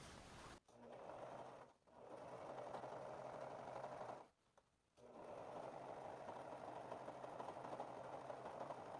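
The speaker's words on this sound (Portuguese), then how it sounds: "Agora vamos costurar as laterais." A sewing machine stitches the side seams of a wrap skirt-shorts in three continuous runs, with brief pauses between them, and the whirring motor stays steady and close.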